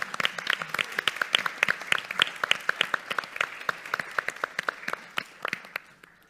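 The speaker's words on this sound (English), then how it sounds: "maybe you need some applause" A conference audience at the MIT Portugal Annual Conference applauds PhD researchers, a round of distinct, crisp hand claps at a lively steady pace, thinning out toward the end.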